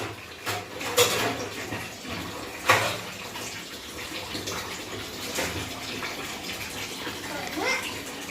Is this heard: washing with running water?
yes